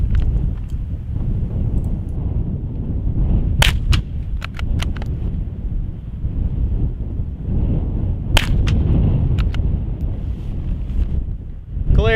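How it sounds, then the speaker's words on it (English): A suppressed Savage MKII FV-SR .22LR rifle fires Aguila Super Extra rounds outdoors, giving a few sharp, muted cracks in small clusters over steady wind rumble. "Report through the silencer was mild"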